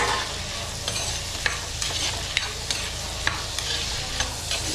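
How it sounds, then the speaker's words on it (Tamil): Onion and tomato sauté in a pan for prawn thokku, a constant close sizzle broken by regular spatula scrapes and stirring strokes. "ஸோ இந்த அளவுக்கு வெங்காயம் வதங்கின பிறகு தக்காளி ஆட் பண்ணிக்கலாம்."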